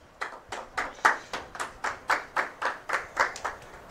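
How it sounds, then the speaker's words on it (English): A church congregation claps in unison, steady rhythmic beats about four per second, each sharp clap ringing briefly in the room, moderately quiet and with no talk over it. "give God a clap offering"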